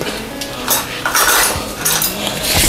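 Metal utensils clatter and scrape against a pan as beef is added to chow fun noodles, a loud, busy jumble of close kitchen clinks with no talking.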